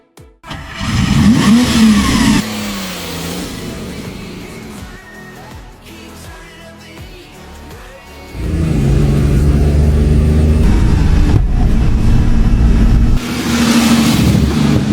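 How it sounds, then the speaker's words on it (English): A Ferrari 250GT on a dynamic road test after restoration, its engine revving hard and accelerating up close, with wind buffeting the microphone and a brief easing off mid-run before the loud engine note returns and holds. "Every car we restore undergoes real road testing."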